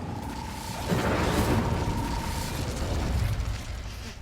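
Incendio fire spell cast in Hogwarts Legacy, a loud whooshing burst of flame with a crackling roar that swells after a moment and sustains, alone without talk.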